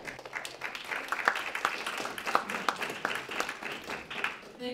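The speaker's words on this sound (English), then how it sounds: "Big round of applause." An audience applauds after a startup pitch at a Dartmouth College pitch event, a dense crowd patter of clapping with a few sharper claps standing out, moderately loud and fairly close, holding steady throughout.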